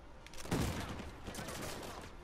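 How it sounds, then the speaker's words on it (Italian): Gunfire from the Uncharted 4 video game: a burst of rapid shots with a sharp onset, followed by a continuing fusillade of quicker, quieter reports at moderate distance, with no voices. "C'è già all'inizio, ci sono spari e spari"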